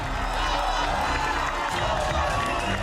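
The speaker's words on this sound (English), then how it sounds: "Listen to that crowd." A dense arena crowd screams and cheers at the Australian Ninja Warrior course, a loud, steady wall of noise that holds throughout with no distinct talk on top.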